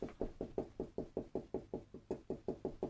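A marker or Sharpie taps rapidly against a tabletop while stippling, about fifteen close, even knocks in a steady rhythm, each a short dull thud.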